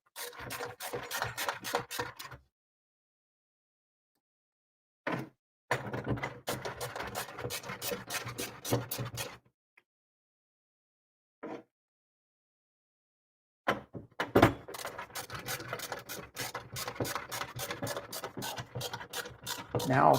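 Screws tightened on an Arcade1Up Big Buck Hunter Pro arcade cabinet with a ratcheting tool, rapid close clicking bursts separated by pauses of silence, with a couple of short isolated clicks in between.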